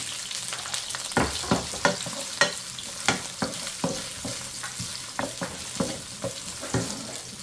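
Garlic and onions sizzle in a pan for buttered chicken adobo, with a steady fry hiss broken by a run of sharp clacks and scrapes from stirring, close up and with no voices.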